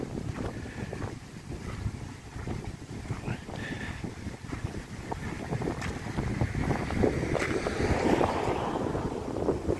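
Steady wind buffets the microphone in gusts for the whole stretch, a loud rumbling roar outdoors on a hot, dry day during a fire in the town centre of Sarata.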